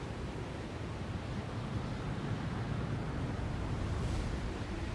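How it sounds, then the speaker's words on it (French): Storm wind and crashing waves in the video game Jusant, a steady, broad rushing roar with a low rumble, loud and continuous with no talk. "Et la tempête ici."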